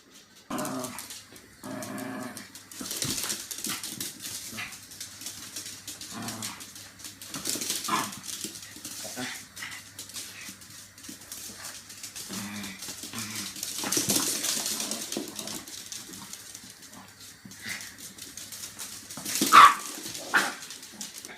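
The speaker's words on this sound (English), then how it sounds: "she just barks at him and does nothing but make a noise" Dogs barking, growling and yelping in short scattered bursts during a game of ball, at moderate distance with some outdoor noise between the outbursts.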